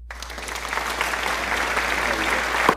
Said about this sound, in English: Let me get a round of applause.